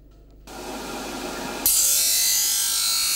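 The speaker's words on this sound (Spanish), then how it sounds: "El repaso final con la tela de lija dejará el mango o cabo totalmente" Sandpaper rubs over a goat horn knife handle in steady abrasive strokes, soft at first and then a louder, harsher continuous scratching, close up with no speech.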